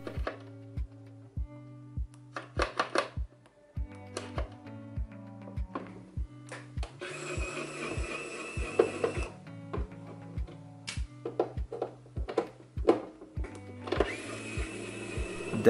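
A SEQURE SQ-ES126 electric screwdriver unscrewing small screws from a device, short whirring bursts of the motor between regular ticking clicks and brief high buzzes, fairly quiet and close.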